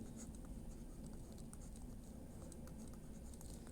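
Pen writing steadily on paper while a geometry problem about a circle with centre O is copied down, soft continuous scratching with faint patter, quiet and close, no talk.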